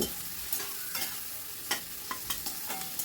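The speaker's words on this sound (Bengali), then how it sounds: "দিয়ে একটা হাই ফ্লেমেই একটুখানি ফ্রাই করে নেব" Onions frying over a high flame with crushed garlic and salt, stirred constantly: a bright, hissing sizzle with repeated quick scrapes and taps of a spoon against the pan.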